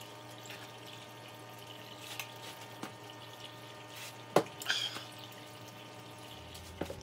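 Water flows through a small three-inch gold cleanup sluice, a faint steady trickle with a few sharper splashes and drips partway through, heard alone without voices.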